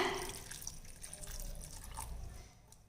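A small amount of water is poured into a vegetable kurma in a pressure cooker, giving a faint, brief splash and trickle that fades out within a few seconds in a quiet kitchen.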